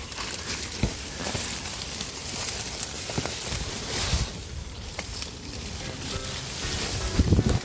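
Strong outdoor wind buffets a microphone in a steady, roaring rumble with gusty swells and occasional knocks, loud and continuous with no voice over it.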